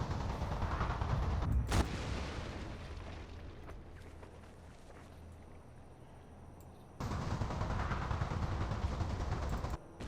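Troops fire volleys in the Shogun 2 Total War video game, loud booming gunfire bursts at the start and again after a quieter stretch, heard over a dense battle din.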